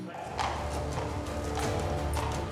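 Horse hooves clip-clopping at a show arena at Puy du Fou, a steady run of hoofbeats that stays moderately loud and close throughout with background noise and possible voices.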